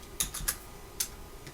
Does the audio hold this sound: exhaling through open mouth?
no